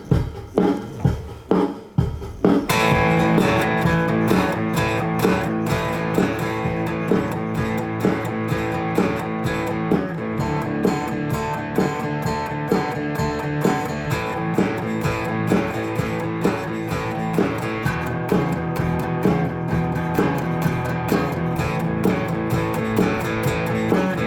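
Guitar strums a 12-bar blues, with a shuffling rhythmic chord pattern and steady accented strokes throughout, loud and close after a few opening hits.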